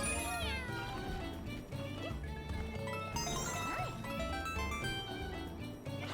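Cat meows from the Cat Bell power-up in the Super Mario 3D World video game, several bright mewing calls over busy game music and effects, loud and close.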